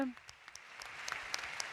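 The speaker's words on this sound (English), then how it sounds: "Piero Ferrari, Grazie, big round of applause." Scattered clapping from a small audience, fairly faint, with individual claps standing out over a low background murmur.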